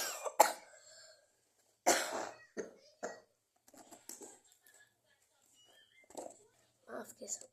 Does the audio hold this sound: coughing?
yes